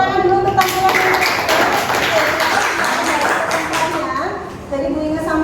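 Classroom audience clapping after a student group presentation, a dense patter of hands filling the room with children's voices mixed in throughout.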